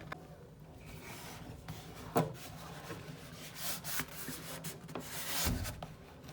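Backing paper being peeled away and vinyl flooring pressed down in a bathroom: quiet, close scraping and rubbing with a few sharper crackles and pats, no talking.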